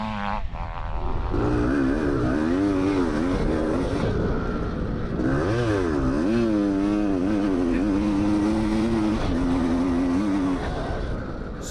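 A Honda CR450 Elsinore dirt bike is ridden hard, its loud two-stroke engine close by and continuous, with the revs rising and falling in wavering surges for the whole stretch.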